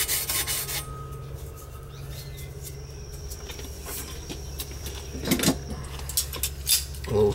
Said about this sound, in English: you go like this with your pliers, sometimes it helps it get some of that corrosion off of there